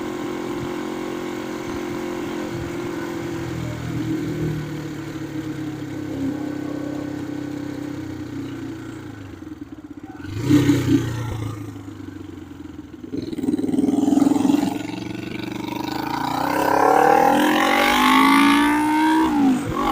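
A 1972 Honda CB450 motorcycle engine drones steadily while riding, with wind noise, then rises in pitch as it accelerates near the end.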